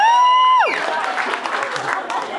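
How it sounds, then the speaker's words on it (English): Comedy club crowd breaking into scattered, modest applause and some cheering after a loud vocal whoop fades, clapping continuing at moderate volume. "Give us a round of applause if you're here and single"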